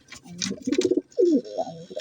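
Soft, throaty racing pigeon coos, a few low rolling calls close by, with faint rustling in the background.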